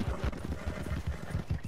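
Horse hooves clip-clopping in Red Dead Redemption 2 as a Mustang rides through Lemoyne, a rapid, muffled, rhythmic thudding gallop under a constant low rumble.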